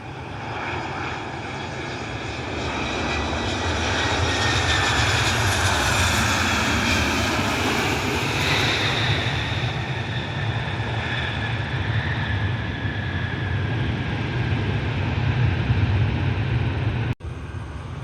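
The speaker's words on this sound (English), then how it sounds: "Delta Airlines 1350 inbound from Atlanta." A Delta Airlines airliner inbound from Atlanta roars steadily with loud jet engine noise, a broad rushing drone that swells and holds for the whole stretch, close and continuous with no talk over it.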